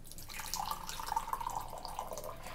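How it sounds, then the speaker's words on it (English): Tea poured from a pot into a mug makes a steady, close liquid trickle that runs evenly for a couple of seconds, with no talking. "And I'll pour my tea."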